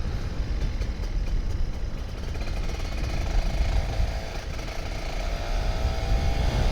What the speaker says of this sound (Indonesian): Maklum motor 2 tak.